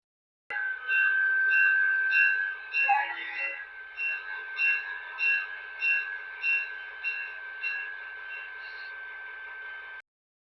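HO-scale BNSF GP35 model locomotive with DCC sound plays a steady diesel hum with a brief horn-like burst, then a rhythmic repeating bell-like chime, small and tinny from a speaker.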